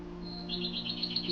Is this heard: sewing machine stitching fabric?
no